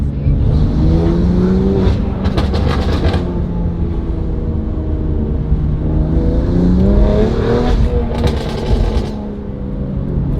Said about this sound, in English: The backfire is crazy.